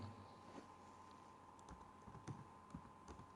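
Keys on a computer keyboard are typed in quick, quiet, uneven clicks and taps over a faint steady hum, close by and with no speech.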